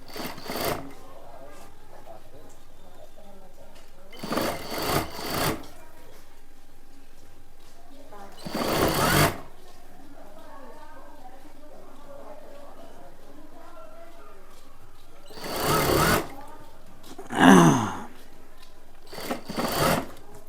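A sewing machine runs in several short bursts, stitching a plain blouse, its rapid whirring loud and close, with a voice talking quietly between the runs.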